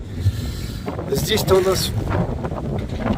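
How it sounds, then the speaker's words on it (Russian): Strong wind buffets the microphone in loud rumbling gusts while someone speaks briefly in Russian over it. "ветер очень сильный"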